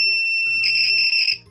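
The buzzer of a homemade steady-hands wire game for a school science project sounds up close, a loud, steady high-pitched electronic tone that holds for about a second before cutting off.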